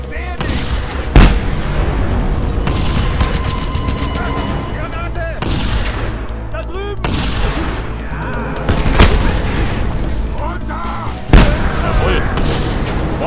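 Bombs and explosions in Just Cause 2 go off as several sharp, loud blasts amid a busy stretch of gunfire and rumbling booms that continues throughout.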